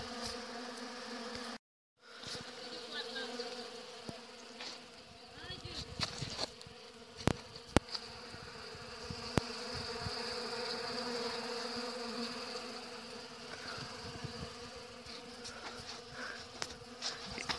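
Honey bees swarm and buzz around a honeycomb frame set outdoors, a steady dense drone close by with individual bees zipping past, mostly alone without talk.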